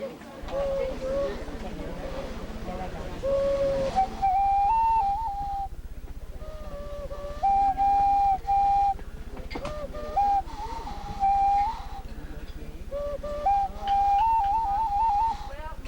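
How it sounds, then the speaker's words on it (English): A Hawaiian ho-kio-kio, a small gourd lover's whistle blown through the nose, sounds a series of thin, wavering tones in short phrases with gaps, some sliding upward, close and fairly clear over a steady low hum. "This little fella is the ho-kio-kio, and that's the one, the lover's whistle that we were talking about."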